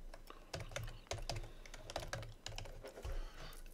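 Rapid computer keyboard typing fills the whole stretch in uneven bursts of close, clicking keystrokes over a low steady hum, with no talking.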